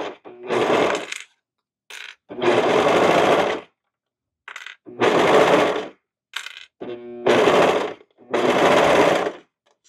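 A sewing machine stitches fabric scraps in five loud bursts of rapid whirring, separated by short pauses with small clicks and handling noises.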